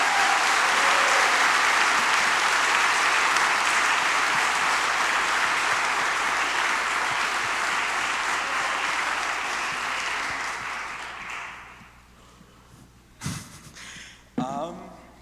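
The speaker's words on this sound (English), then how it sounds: "Can we all give them a round of applause for all the hard work they do?" A congregation at a Sunday camp service gives a long, dense round of applause for the camp work crew, loud and sustained for about eleven seconds before fading out, followed by a few isolated thumps.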